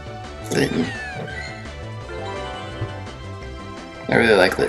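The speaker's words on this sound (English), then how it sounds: "I really like Litten's cry. It's very meow." Litten, a kitten Pokémon, crying in Pokémon Go: short cat-like mewing calls near the start and again at the end over steady looping game music, loud and close.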